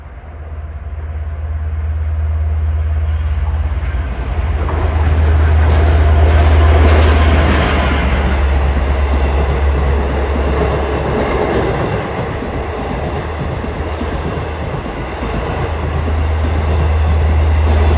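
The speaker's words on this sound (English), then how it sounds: "Approaching at 542 is train 42, Penn Station to Spionk. He's going to switch from track 2 to 1 here." A Long Island Rail Road train rumbles loudly and steadily as it approaches Elmont station and switches from one track to another, with a heavy low drone and faint wheel clatter throughout.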